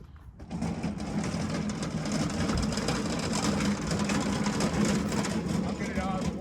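A big rig truck engine idles and rumbles steadily as the truck pulls in, a continuous low, close engine drone with no pauses, while people talk over it.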